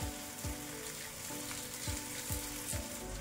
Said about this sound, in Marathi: रुमाल काढल्याच्या नंतर साईडनी थोडंसं तेल सोडायचं